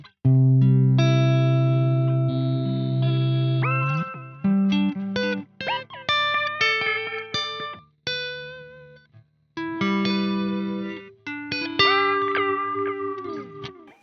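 An electric guitar through a Chase Bliss Onward octave delay preset, sustained notes with pitch-shifted repeats, warbling glides and glitchy stutters, phrases broken by short pauses.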